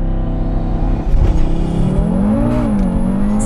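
A hybrid turbo Audi RS3 revs hard under acceleration, with engine pitch climbing and dropping at a gear shift, loud and close throughout with no speech.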